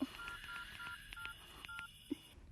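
Telephone keypad tones beep one after another as a number is dialed, a quick sequence of short electronic pips close by, with a couple of soft clicks and a quiet room behind.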